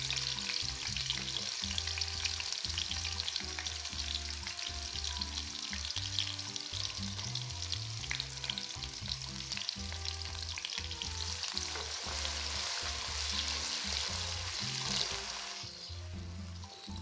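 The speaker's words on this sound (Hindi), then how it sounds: "प्याज को करेंगे हम अच्छे से फ्राई।" Onions sizzle and crackle steadily in hot oil, with occasional stirring scrapes throughout, loud and close.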